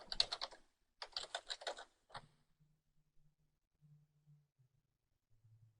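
Computer keyboard typing to sign in with a dummy account: two quick bursts of close keystrokes, then a single short clatter, followed by near silence with only a faint low hum.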